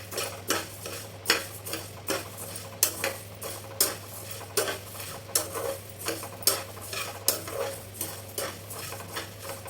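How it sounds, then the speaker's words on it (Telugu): A quarter cup of cumin seeds dry-roasting in a pan over medium flame, stirred with a utensil that scrapes and taps rhythmically at a steady pace, alone and close, with a low hum beneath. "చివరగా పావు కప్పు జీలకర్ర వేసుకుని తిప్పుకుంటూ ఉండాలండి"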